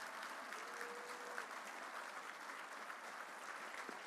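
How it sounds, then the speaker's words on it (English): Applause for inductees fills a room at the Wisconsin Silver Circle Honors Brunch, a steady wash of clapping from a seated crowd, fairly distant and consistent throughout. "One more round of applause for all of these 8 wonderful inductees."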